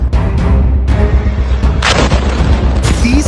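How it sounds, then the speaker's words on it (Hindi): Explosions in the Gaza war boom loudly and close in quick succession, several heavy blasts with sharp cracks over a constant deep rumble. "तीसरा धमाका"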